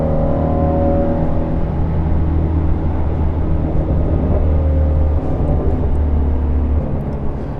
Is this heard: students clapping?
no